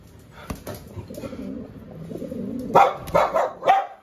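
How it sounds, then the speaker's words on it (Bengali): Pigeons gather close by to peck at scattered grain, giving low murmuring coos and then a few louder fluttering bursts near the end, with no talking. "পায়রাগুলো এসে খাচ্ছে এখানে বসে বসে"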